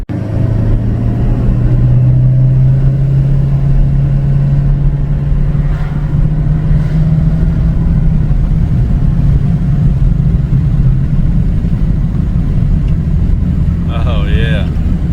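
A 2019 Ford F-250 with the 6.7L Powerstroke diesel pulls along a highway, its engine drone climbing steadily in pitch as it accelerates through the gears. Road and wind noise from slightly open windows run underneath, with a brief high squeal near the end.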